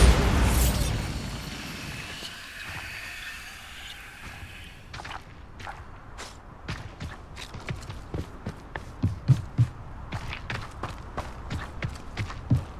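A Bombarda blasting spell goes off in Hogwarts Legacy, a big booming explosion loud at the start, then rumble dying away into a run of sharp clicking and tapping hits, with no talk over it.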